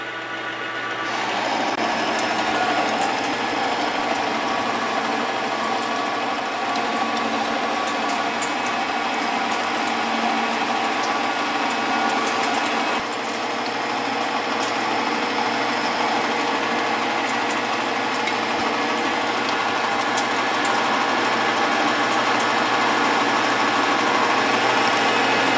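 A YUWE L1440 manual lathe runs steadily, giving a continuous mechanical whir with a ticking, gear-like rattle that stays even and close throughout, with no talking.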